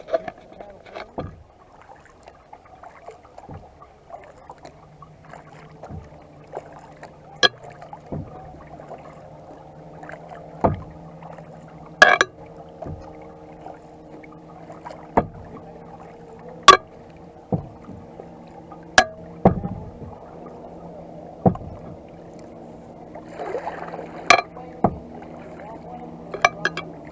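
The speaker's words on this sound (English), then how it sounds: "Instead of going in right beside you and getting a full paddle, get the paddle forward." Old Town Vapor 10 Angler kayaks on calm water, with scattered paddle knocks and clunks against the hull and light splashes at irregular intervals while people talk quietly nearby.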